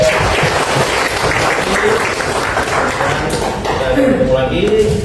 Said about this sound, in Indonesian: Ya, aplaus buat kita semua.